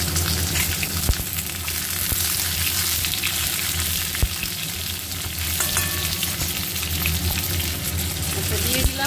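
Washed eggplant frying in hot mustard oil, a dense, loud, continuous sizzle with occasional clicks and knocks from stirring, heard close and steady with no talking.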